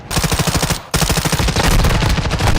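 Rapid automatic gunfire from Modern Warfare II (2022), loud continuous bursts with a brief gap near the start, then sustained firing to the end.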